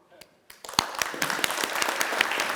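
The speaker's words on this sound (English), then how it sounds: "Can you hear us if we give you a big applause?" Audience applause at an inaugural session, beginning with a few scattered claps and building into a steady round of clapping from a seated crowd.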